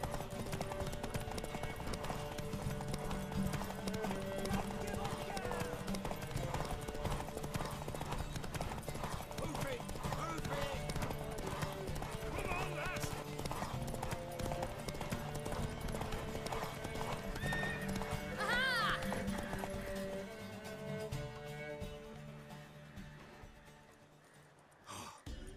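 A horse gallops in The Witcher 3 video game with a steady, rapid drumming of hooves throughout, joined by snorts and breathy sounds over game music before it fades near the end.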